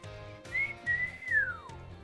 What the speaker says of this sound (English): I tried to do the whistle.